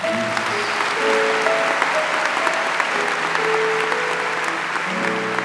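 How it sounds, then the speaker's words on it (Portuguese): Catholic congregation applauding during Mass after the Gospel reading; loud, sustained clapping from a full church, with sustained organ or keyboard notes sounding faintly underneath. "Podemos aplaudir a palavra."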